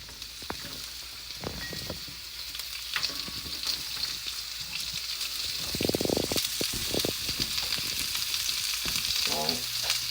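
Vegetables sautéing in a pan of butter and oil, a continuous crackling sizzle close up with scattered stirring scrapes and clunks that grow more frequent toward the end.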